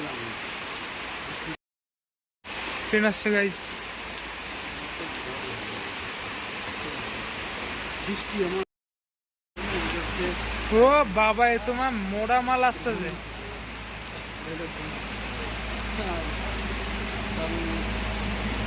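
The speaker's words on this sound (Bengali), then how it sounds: "বৃষ্টি বেড়ে গেল" Rain falls steadily beside a railway line, a constant broadband hiss that runs through the whole stretch, with people talking over it partway through.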